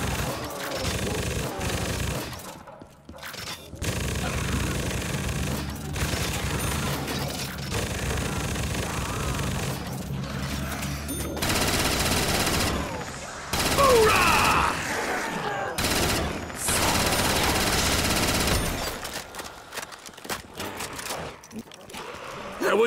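Rapid bursts of gunfire crackle in a Call of Duty zombies game, volleys starting and stopping in choppy bursts between quieter gaps, with a voice talking over the action.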